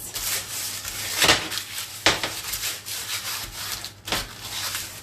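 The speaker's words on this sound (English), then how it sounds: "Going to grease my baking tray before I start making the shapes." A baking tray being greased before baking biscuits, with slow rubbing and scraping strokes close up and a few louder sweeps, over a faint steady hum and no talking.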